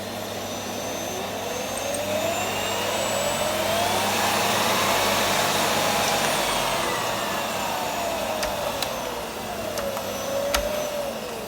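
A Miele S5260 vacuum cleaner with a turbo brush runs on its minimum power setting, a steady close whirring drone whose pitch rises and falls slightly as the brush moves.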